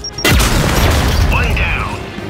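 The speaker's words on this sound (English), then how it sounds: "keep your head down and blind toss the grenade" A grenade blast in Gears 5, a loud booming burst that kicks in abruptly and rumbles on with debris and crackle, with a brief whistling streak afterward; a voice talks over it.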